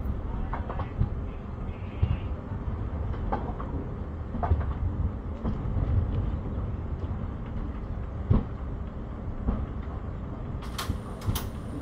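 A Konkan Railway train creeps slowly into Kankavli station, a low steady rumble with soft clanks and occasional sharp knocks, fairly quiet and distant-sounding.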